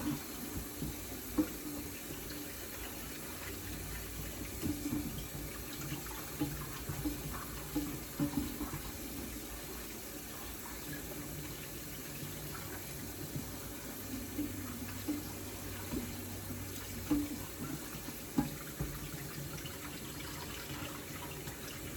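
Tap water runs steadily into a sink while red beans are rinsed after soaking for canning, a continuous close splashing flow with small irregular clatters and no talking.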